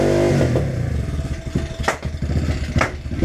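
Dirt bike engine started with choke and throttle, a sputtering, uneven burst of firing and clatter that rises and falls across a few seconds, close by.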